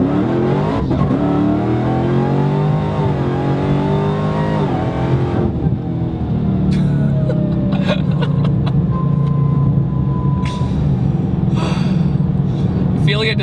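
A 1000 hp Dodge Demon accelerates hard with a loud, rising engine roar. Gasps and excited voices are heard inside the car, and the roar eases into a lower drone.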